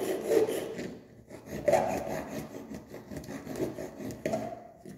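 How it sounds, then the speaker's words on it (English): A hand saw rasps back and forth through wood in steady, rhythmic strokes, close and fairly loud. "You hear me sawing this one."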